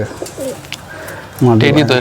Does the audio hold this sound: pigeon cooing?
yes